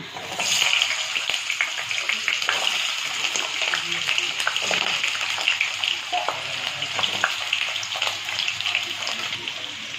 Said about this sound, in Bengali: এবার কড়াইটা গরম হয়ে গেছে এবারে আলুগুলো ভেজে নেব